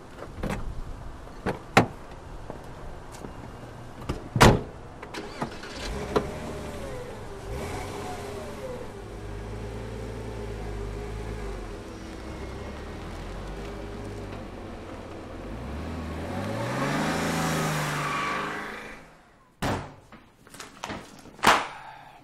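An old car, a model from the previous millennium, starts its engine with a long rough rumble while the motor surges and revs, opened and closed by several sharp, close door slams near the start and end.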